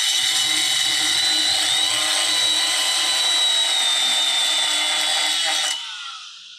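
A tube notcher cuts into a steel chassis tube with a loud, steady high-pitched whine and grinding drone lasting several seconds, then abruptly stops, leaving a fading hum.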